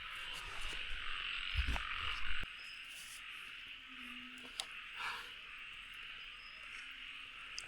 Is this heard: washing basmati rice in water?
no